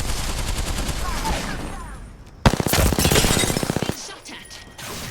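Rapid bursts of gunfire in Apex Legends striking the player, a dense rattling volley lasting over a second after a sharp opening crack, loud and close, with game noise and voices around it.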